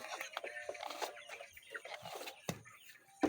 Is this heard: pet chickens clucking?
yes